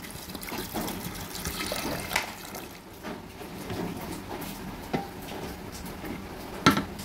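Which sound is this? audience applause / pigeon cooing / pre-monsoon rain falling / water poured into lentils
water poured into lentils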